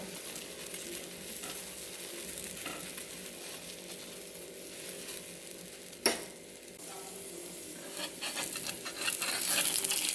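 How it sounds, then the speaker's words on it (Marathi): An onion and cheese paratha roasts in ghee on a hot pan, giving a steady soft sizzle with a single sharp knock partway through and the frying growing slightly louder toward the end. "या पराठ्याला दोन्ही बाजूने छान असं खरपूस भाजून घ्यायचं आहे"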